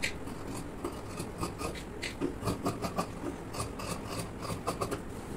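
Scissors cut through fabric for a baby frock with a quiet, steady run of soft snips and rustling, closely spaced in an uneven rhythm.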